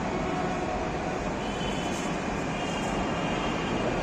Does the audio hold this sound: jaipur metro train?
yes